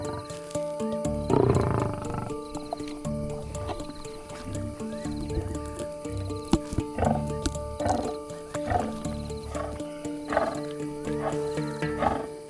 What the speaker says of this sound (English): Dinner time in a lion family can be a noisy affair.